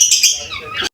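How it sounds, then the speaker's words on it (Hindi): Pet parrots at home give a loud, close burst of shrill chirps and a falling call, lasting about a second before cutting off abruptly. "ये हमारे तोते हैं।"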